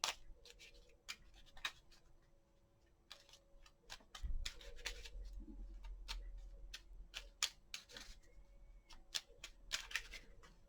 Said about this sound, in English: I think that's a good shuffle